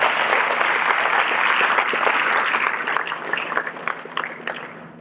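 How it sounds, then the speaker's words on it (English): Students and guests at an academic foundation programme ceremony clap in a sustained round of applause that thins and becomes more scattered toward the end. "Please give them a big round of applause"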